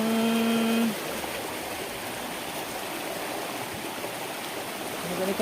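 Rushing water pours steadily over rocks in a continuous loud hiss, with a brief tonal hum at the start.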